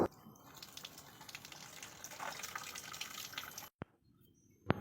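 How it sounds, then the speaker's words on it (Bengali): Water trickles and splashes steadily over a stone Shiva lingam during a home puja, a continuous close pouring sound that stops abruptly near the end, followed by a couple of sharp clicks. "তারপরে আমি আবার শিব ঠাকুরকে স্নান করাতে গেলাম।"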